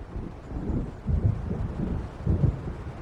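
Rolling thunder from an approaching storm near Diver's Isle in Alan Wake, deep rumbles that swell in two heavy surges over steady wind and waves.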